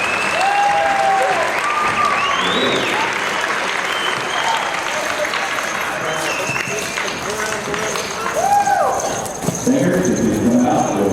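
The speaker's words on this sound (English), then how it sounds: "Let's give them a big round of applause." A crowd at a pow wow applauds dancers dressed in regalia, a sustained loud clapping wash with cheers and whoops rising over it, an announcer's voice heard intermittently.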